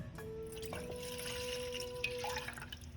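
Water poured into a rice cooker pot, a steady close stream with a ringing, rising fill tone under faint room noise.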